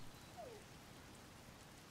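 Soft continuous rainfall in the game Zelda: Tears of the Kingdom forms an even, low hiss, with a faint brief tone near the start and no speech.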